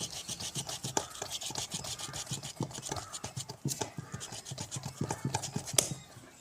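A knife cuts through the stem of a dumb cane plant with close, repeated rasping and scraping strokes, a quiet uneven rhythm of small crisp snaps.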